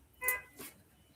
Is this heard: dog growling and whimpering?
no